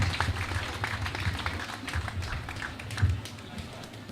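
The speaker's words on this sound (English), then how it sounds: "I think they deserve another round of applause." Scattered clapping rises from an audience at an international trade fair in Gambia, uneven and fairly faint, with a low hum and murmuring voices beneath.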